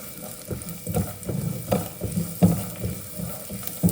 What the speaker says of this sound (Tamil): இப்போ தேங்காய் போட்டுக்கலாம் நல்லா தேங்காய் ஈரம் போக வறுபடணும்